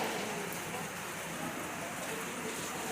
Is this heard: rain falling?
yes